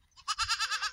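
A goat on a goat farm lets out one close, loud bleat with a quavering, pulsing tremble. It lasts about half a second after a brief quiet lead-in, with no talking.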